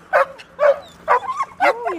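Dogs bark on a street in Spain, four sharp, loud yaps in quick succession close by, some ending in a whining pitch glide.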